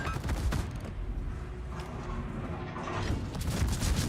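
Warship turret guns firing in World of Warships, heavy booming salvos layered over a dense, rumbling battle din, loud and sustained with stronger blasts at the start and end.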